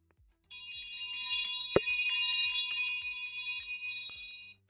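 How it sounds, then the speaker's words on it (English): A stock market opening bell rings steadily and loudly for about four seconds, with shimmering high metallic tones, a sharp strike near the middle and a low rhythmic pulse beneath, alone without talk. "we got the bell open"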